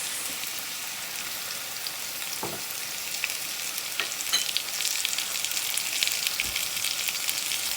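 Carrots tossed into a hot wok with onions for chicken fried rice, a bright hissing sizzle that swells slightly over time, with a few faint scrapes, close and alone.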